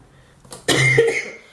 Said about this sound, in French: Alors excusez-moi si je tousse par moment